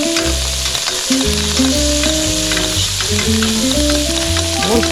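A salmon fillet sears in a pan of butter, giving a loud, dense, continuous sizzle with a crackling spatter running throughout, no voices over it.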